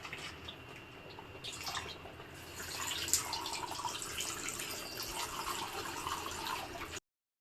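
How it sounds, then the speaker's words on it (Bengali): Milk pours steadily into semolina in a home kitchen to make sweet pudding for a festival meal, a continuous liquid trickle and splash that lasts several seconds over a soft room background. "মা এখন সুজিতে দুধ দিচ্ছে"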